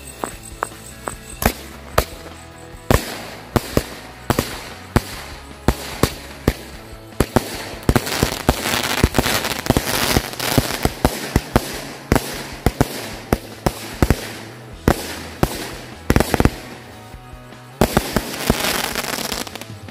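Rapid volleys from a "The Hobbit" firework cake bursting one after another for the whole stretch, loud sharp cracks with dense crackling between, no voices.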